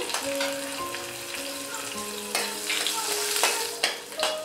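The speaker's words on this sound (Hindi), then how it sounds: "तेल गर्म हो गया है मस्टर्ड सीड डालेंगे अब हम हरी मिर्च डालेंगे" Green chillies and mustard seeds fry in hot oil in a kadai with a steady sizzle and occasional stirring clicks, while faint tonal sounds run in the background.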